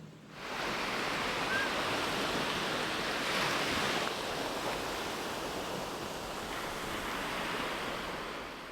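Ocean surf rolling onto a beach, a steady broadband wash of breaking waves that swells slightly midway and holds near and loud throughout, with a faint touch of wind.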